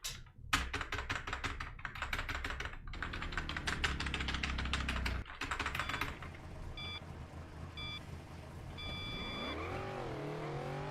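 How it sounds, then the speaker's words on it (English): Rapid, dense clicking of a computer keyboard used to play Cars on PSP, layered over racing-game engine drone and sound effects, with a rising engine sweep at the end. "as you could probably hear, I use keyboard"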